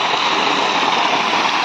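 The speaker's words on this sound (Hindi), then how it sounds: "देखिए दोस्तों पानी शुरू कर दिया हमने पानी की टांके में।" Water rushes steadily into a water tank, a constant loud hiss and gurgle with no breaks and no voices.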